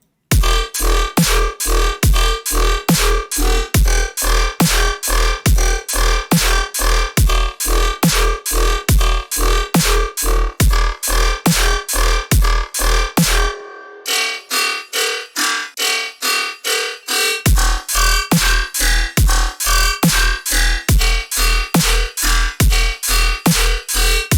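A gritty, metallic riddim bass made in Serum pulses in rapid rhythmic stabs over a deep sub thump, drops out briefly midway, then resumes with no talking.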